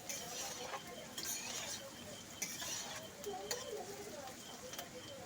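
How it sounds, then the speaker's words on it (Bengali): A spatula scraping and turning papaya pieces as they fry in a pan, soft irregular clinks and scrapes repeating at close range over a faint sizzle. "আর মাঝে মাঝে খুন্তিটা দিয়ে উল্টে পাল্টে দিতে হবে বা একটু নাড়াচাড়া করে নিতে হবে"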